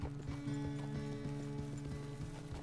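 Horse hooves in Red Dead Redemption 2 thud in a steady, close clip-clop over a low, constant background hum, with no talk over them.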